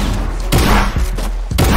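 Gunfire and heavy thudding impacts from a Fortnite match, a few loud close bursts roughly half a second apart over a constant dense game background.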